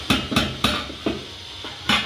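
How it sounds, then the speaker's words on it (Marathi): Ragi flour emptied from one metal pot into another, heard as about six sharp metallic knocks and taps at uneven intervals, close up, with no talking. "या पातेल्यातलं पीठ आपण दुसऱ्या पातेल्यात रिकामं करून घेऊ."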